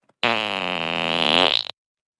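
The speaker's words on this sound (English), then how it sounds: "It's gonna take a lot more than a fart in my face to make me..." A cartoon fart sound effect from Family Guy, one loud sustained blast of about a second and a half that trails off abruptly, with no speech over it.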